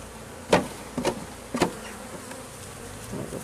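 Honeybees buzzing at a hive while super frames are knocked and shaken over it, three sharp thumps about half a second apart over a steady close hum of bees.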